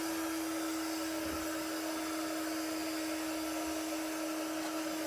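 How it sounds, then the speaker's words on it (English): An embossing heat gun runs steadily after being switched on for crafting, a constant loud airflow whine with a strong hum, unbroken for the whole stretch and with no talking. "I'm just going to switch my heat gun on to warm up."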